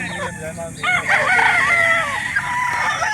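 Several roosters crow loudly and close by, overlapping one another at an outdoor chicken market in Calauan, Laguna, with clucking fowl and faint voices in the background.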